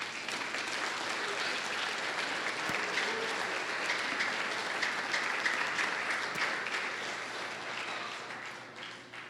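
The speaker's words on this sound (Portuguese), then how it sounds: "Você pode aplaudir a Jesus?" A church congregation applauds steadily for about nine seconds, a dense, sustained wash of clapping from a large indoor crowd at even loudness, with no talking over it.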